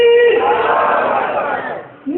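A large crowd roars back in unison answering a Nara-e-Takbeer religious chant at a gathering; a loud, sustained collective shout swells and fades over about two seconds, with a new voice starting at the end.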